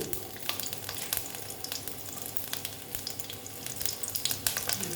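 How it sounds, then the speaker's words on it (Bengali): Black cumin seeds and garlic frying in oil in a pan for a red spinach dish, a dense crackling sizzle throughout with light stirring, close and steady, without speech. "দিয়ে একটু ভেজে নিচ্ছি"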